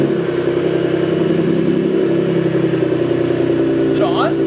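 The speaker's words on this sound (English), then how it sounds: "Rev it up." A second-generation Ford Raptor with a 3.5 EcoBoost engine and AWE exhaust runs close by, giving a steady, loud engine drone with a slight lift in revs and no distinct breaks.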